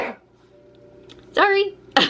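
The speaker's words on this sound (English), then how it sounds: "I'm gonna sneeze." A single sneeze bursts out after a stretch of quiet room tone, with a second sharp burst just after, close to the mic during a casual home reading chat.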